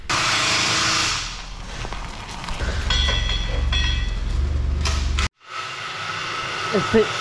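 A thin metal spacer is cut off in a shop with a loud power tool whose harsh grinding runs for several seconds before cutting out abruptly, followed by quieter shop noise.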